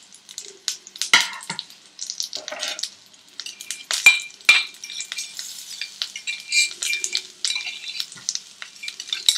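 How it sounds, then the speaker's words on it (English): A coarse ground spice mixture with curry leaves sizzles and crackles in hot oil, with scattered spattering pops and utensil stirring, close and moderately loud. "I'm going to add this to my oil and fry this mixture"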